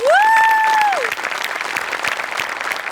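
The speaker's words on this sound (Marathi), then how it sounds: "सगळ्यात आधी अमोल पाटलांसाठी जोरदार टाळ्या" A studio audience at a Marathi comedy show bursts into dense, sustained applause for performer Amol Patil, opening with a single sung-out vocal whoop before the clapping carries on alone.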